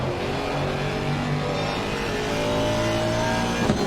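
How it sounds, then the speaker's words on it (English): An Aston Martin GT3 race car in Assetto Corsa Competizione at Paul Ricard, its engine droning loud and steady with rising and falling revs and a gear change near the end. "It is a good sounding car, that is for sure."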